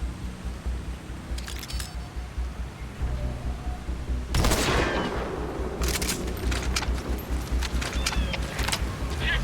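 Gunfire in the video game Metal Gear Solid V: The Phantom Pain, bursts of shots over a low rumbling background. A loud volley hits near the middle, and scattered rapid shots follow at close range.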